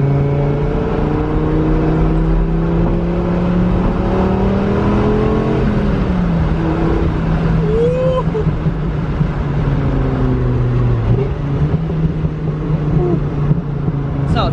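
A 2002 Dodge Viper SRT-10 engine revs loudly and continuously, its low drone gliding up and down in pitch through long gear pulls, with voices talking over it.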